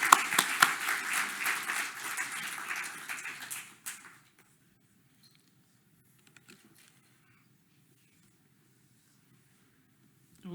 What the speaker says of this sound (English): Please give a big applause.